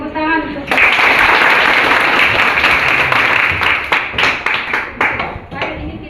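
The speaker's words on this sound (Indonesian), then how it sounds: "Tepuk tangan untuk" A ninth-grade school class claps hands together, loud close-up clapping that starts abruptly after a voice and then thins into scattered claps.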